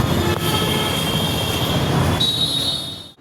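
A train runs along a railway line near Dakshineswar with a loud, steady rolling roar and a sustained high metallic wheel squeal that shifts pitch near the end before the sound cuts off.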